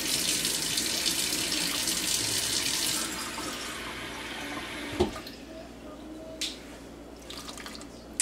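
Water runs steadily from a tap for a few seconds, then shuts off, followed by a couple of soft clunks and drips.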